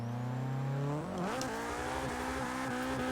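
A Nissan 240SX drifting in the racing game Forza Motorsport 6, its engine droning steadily, then revving and wavering in pitch as the car slides, with tire squeal mixed in, loud and close with no talk.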